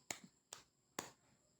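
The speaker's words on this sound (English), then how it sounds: "Let's give 3 claps for Mike" Classroom students give three sharp, distinct claps in unison, spaced about half a second apart, each a crisp isolated burst in an otherwise quiet room.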